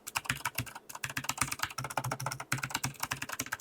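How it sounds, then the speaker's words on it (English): Rapid, steady typing on a Keymove Snow Fox mechanical keyboard with blue Gateron switches and swapped keycaps, giving close, crisp clicky keystrokes in quick bursts with one or two brief pauses. "So this is the Snow Fox from Keymove with, I believe, blue Gateron switches and different keycaps."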